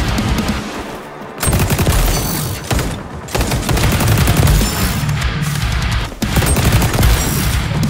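Assault rifle fire in the shooter game XDefiant rattles in loud, rapid bursts that fill nearly the whole stretch, broken by a couple of brief pauses, with no voices over it.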